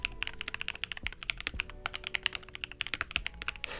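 Rapid, crisp keystrokes on a custom mechanical keyboard, snappy and clacky, with steady fast typing rhythm throughout and no talking.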